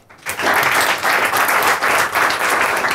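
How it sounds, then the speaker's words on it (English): Audience applause at a startup pitch event, a full room clapping steadily for about three seconds after a quiet start. "Round of applause."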